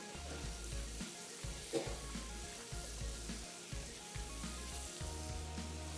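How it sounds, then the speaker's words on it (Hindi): Roasted sesame seeds fry gently in butter in a pan, giving a steady soft crackling sizzle throughout at low level with no talk. "इसमें शामिल कर देंगे रोस्टेड सेसमी सीड्स यानी कि तिल, थोड़ा बटर के साथ भी हल्के से फ्राई होंगे।"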